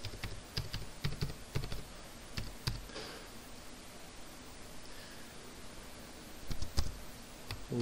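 A password goes in on a computer keyboard: quick clusters of crisp key clicks, close and fairly quiet over faint background hiss, with a lull in the middle before a final burst of keystrokes.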